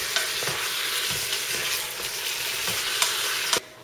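Beef tips browning with Montreal steak seasoning in a pot, a steady close sizzle and frying hiss with occasional scrapes and taps of stirring, ending in a sharp knock.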